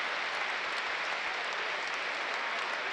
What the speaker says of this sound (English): a warm round of applause around the London Stadium